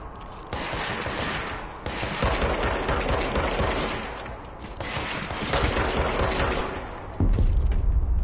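Enemy gunfire in the video game Control, loud rapid automatic bursts forming a sustained fusillade with brief gaps between volleys, close and dominant throughout.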